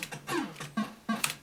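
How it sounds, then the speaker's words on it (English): Several quick keystrokes sound on a keyboard while a ping command is typed on a computer for a Commodore C64 1541 Ultimate II Plus Ethernet setup: close, light clacks in an uneven rhythm, with no talking. "I'm just going to run command and type in ping"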